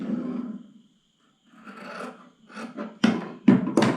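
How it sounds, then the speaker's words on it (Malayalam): Scissors cut through scrap cloth for a churidar neck design, making close, rasping snips in separate bursts with a short silent gap and sharper cuts toward the end. "ഇങ്ങനെ കട്ട് ചെയ്തു."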